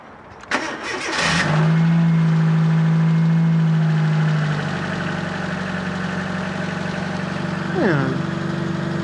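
Fiat Panda 4x4 engine cranks briefly and catches, then settles into a steady, slightly rattly idle close by, with a short blip of revs near the end.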